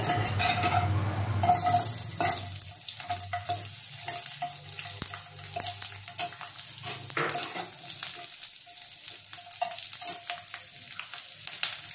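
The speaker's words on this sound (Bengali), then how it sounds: "এবার আমি এর মধ্যে দিয়ে দেবো ক্যাপসিকাম কিউব করা কাটাটা" Cubed capsicum tossed into hot oil left from frying eggs for egg chilli, sizzling steadily while a spatula scrapes and stirs against the pan, with clinks of metal throughout.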